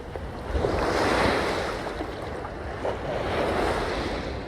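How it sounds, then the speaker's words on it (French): Ocean waves surge and break at Kai Beach on Saadiyat, Abu Dhabi, a steady close roar of surf swelling and easing twice, with some wind buffeting the microphone and no voices. "Les vagues là."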